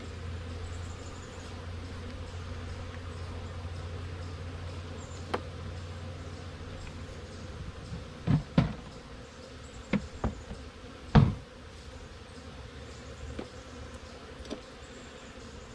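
A dense, steady hum of many honey bees buzzing around a hive frame fills the air close by, broken by a few sharp knocks and clicks of handling.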